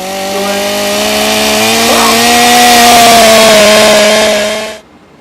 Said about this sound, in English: Was that a chainsaw?